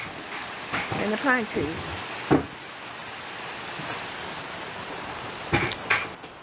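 Rain falls in the desert around a porch with pine trees nearby, a steady close hiss of drops hitting surfaces throughout while people talk intermittently over it.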